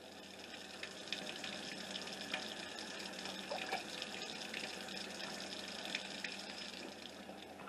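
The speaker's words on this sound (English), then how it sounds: "Now I have 8 cups of water in my canner because that's what it calls for." Steady rushing of tap water pouring into a metal pressure canner, a continuous hissing splash with no pauses, close by.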